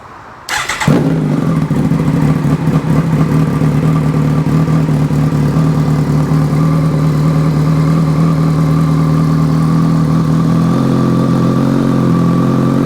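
A 2022 Kawasaki ZX14R motorcycle engine with a Brocks aftermarket exhaust starts with a sharp burst, then settles into a loud, steady, throaty idle that continues without a break.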